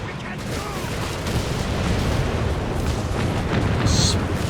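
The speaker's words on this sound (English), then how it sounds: "Unleashing hell with the Bofors" Heavy Bofors anti-aircraft gun fire from a Company of Heroes 3 battle: a dense, continuous barrage of booming bursts that keeps rumbling at high volume throughout, with no voices.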